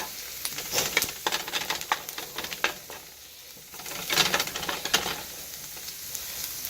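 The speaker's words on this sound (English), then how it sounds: "make sure you constantly stir these things so they don't brown too much on one side" Onions and mushrooms for a BBQ mushroom burger sizzle steadily in a pan, broken by bursts of scraping and clattering as they are stirred, close and fairly loud with no talking.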